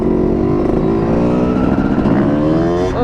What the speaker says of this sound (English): I'm on the freaking 250 two-stroke